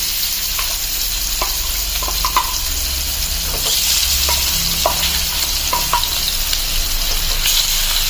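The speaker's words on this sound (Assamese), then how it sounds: "আমি এতিয়া মাছ কেইপিচ ভাজি লওঁ।" Fish pieces fry in hot mustard oil, a steady close sizzle with scattered pops and occasional utensil clicks, loud and continuous without any voice.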